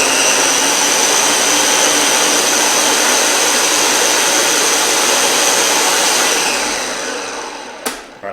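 A steady, loud motorized whir of a blender on medium speed blending green salsa with avocado and water, then tapering off near the end with a brief clunk.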